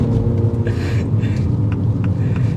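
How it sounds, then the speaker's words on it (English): A 2024 Mini John Cooper Works Clubman on the move, heard from inside as a loud, steady low engine and road rumble with a few faint clicks over it. "you will have a lot of fun driving a John Cooper Works Mini"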